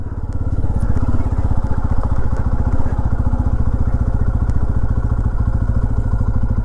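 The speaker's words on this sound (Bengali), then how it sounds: "জঙ্গলের মাঝখান দিয়ে এরকম সরু সরু রাস্তা দিয়ে" A motorcycle engine runs steadily and loud up close as the bike rides along a narrow road through Chandur forest, a continuous throbbing drone with no pauses.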